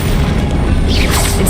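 A fiery Incendio spell bursts out in Hogwarts Legacy, a dense roaring whoosh with a rising crackle near the end, loud and close for about a second and a half.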